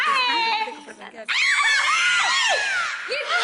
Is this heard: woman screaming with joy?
yes